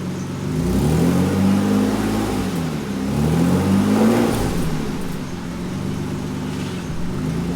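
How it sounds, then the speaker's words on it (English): A car set up for drifting with modified suspension revs its engine nearby, the pitch swelling and dropping in two or three smooth surges over a steady running hum. "like while I start the car"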